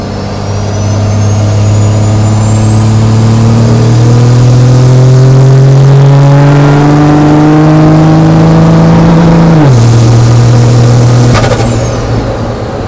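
A loud Cummins-swapped 1963 Chevy C60 Viking diesel truck engine drones steadily as it drives down the road, pitch rising gradually with speed, with a high whine above it and a brief drop near the end.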